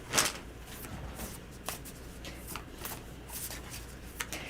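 A deck of tarot cards is shuffled and cut, a sharp riffle burst at the start followed by softer rustling, flicking and slapping of cards, close and fairly quiet.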